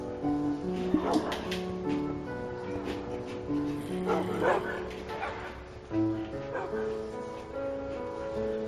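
Dog barks and yips in Minecraft PlayStation 4 Edition, several short barks scattered over game music and ambient sound, fairly near and moderately loud, with a voice briefly heard.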